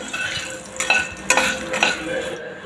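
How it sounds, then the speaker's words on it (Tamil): Curry leaves and two dried red chillies fry in hot oil for an instant sambar, a close sizzle broken by a few loud stirring bursts and faint utensil clinks, with no voices. "கொத்தளவு கருகப்பிள்ளை சேர்த்தாச்சு, அது நல்லா பொரியட்டும்"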